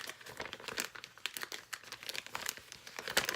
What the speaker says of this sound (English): You put your paper or your label inside of here and kind of like close it up.